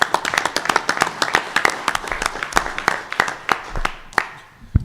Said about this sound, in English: Let's give both Brian and of course Oscar a round of applause.